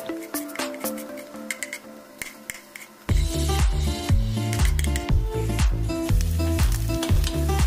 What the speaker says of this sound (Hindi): स्लो मीडियम फ्लेम पे हमारा प्याज हो रहा है फ्राई